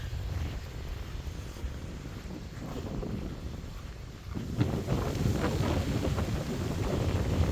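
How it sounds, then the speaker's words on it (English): Gusty wind buffets the microphone outdoors on a prairie trail in a state park, a steady low roar that swells louder partway through, with no voices. "I'm braving the wind here"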